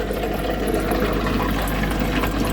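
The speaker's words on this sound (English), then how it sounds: "So it's giving, the pump's blowing the water up through that one" A battery-powered pump pushes water up through an aquarium filter, giving a constant close gurgling, bubbling wash with a low motor hum beneath it and no voices.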